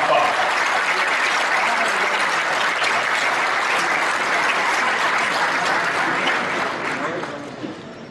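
A large crowd at a PTI party event applauds Imran Khan with loud, sustained clapping that fills the space evenly before easing off near the end.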